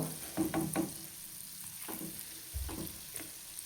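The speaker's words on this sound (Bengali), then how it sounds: "এইভাবেই আমি পুরো গোলাপ জামুনগুলো ফ্রাই করে নেব।" Gulab jamun dumplings fry in oil with a soft, low sizzle, broken by a few short clinks and bumps of a utensil near the start and again midway.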